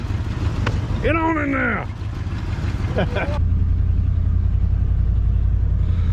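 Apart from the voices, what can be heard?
1987 Ford F150 truck engine driving down the road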